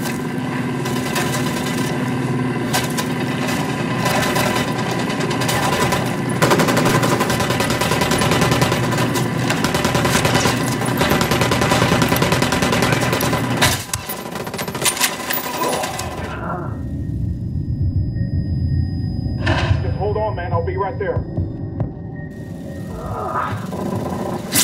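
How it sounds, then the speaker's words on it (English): Gunfire in the video game Ghost Recon Wildlands: dense, rapid automatic bursts roar close and loud for about fifteen seconds, then the shooting stops and scattered clinks and lighter noises follow. "I'm opening fire on these shitheads."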